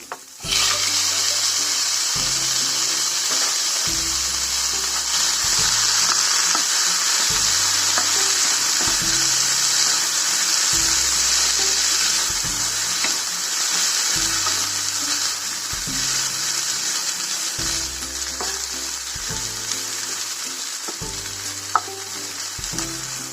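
Tomatoes dropped into a hot pan for paneer masala sizzle and fry loudly and steadily, a dense continuous hiss with stirring, close and alone without any talk.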